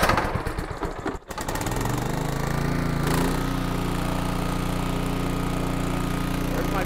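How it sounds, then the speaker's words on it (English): Small air-cooled engine starts up and settles into a steady, loud running drone, close by, with a brief dip at startup before holding an even idle under load while its charging system is tested. "We're going to fire this up."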